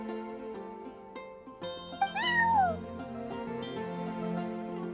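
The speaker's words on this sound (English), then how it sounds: "I'm sorry, that's my neighbor's cat." A cat meows a few times in a video game, bright rising and falling cries standing out over soft background music, fairly close and moderately loud.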